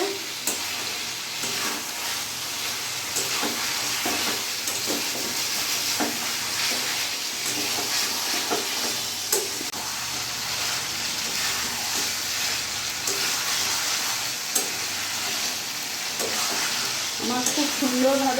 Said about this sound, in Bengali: একটু ভালো করে নাড়াচাড়া করে আমি কষিয়ে নেবো